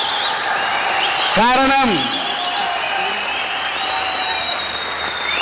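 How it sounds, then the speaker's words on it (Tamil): An audience at a Tamil talk-show debate stage bursts into loud, sustained applause, with a voice speaking over the clapping crowd. "இந்த கைத்தட்டல் நன்றாக ஒலிக்கட்டும்."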